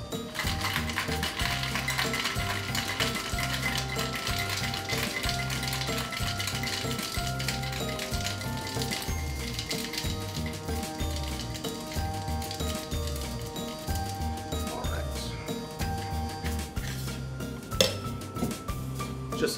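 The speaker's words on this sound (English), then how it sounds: "Now we will shake this till those few ice cubes are completely melted." A cocktail shaker holding club soda and a couple of ice cubes is shaken hard for a Mr. Grundy's Edge cocktail, giving a steady, rhythmic rattle and clink that runs the whole time with a tonal layer underneath.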